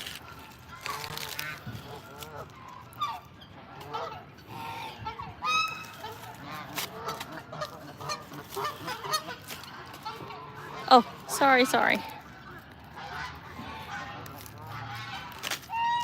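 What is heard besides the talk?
snow goose honking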